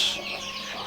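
A one-month-old layer chick gives one short, close chirping call.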